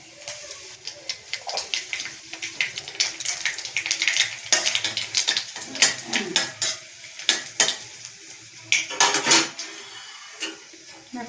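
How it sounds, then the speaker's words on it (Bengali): Nigella seeds and dried red chillies spit and crackle in hot oil, with frequent bright pops and metallic clinks of a utensil against the pan over a steady frying hiss, close and fairly loud. "এবার আমি এই গরম তেলে দিয়ে দেব কালো জিরে আর শুকনো লঙ্কা ফোড়ন"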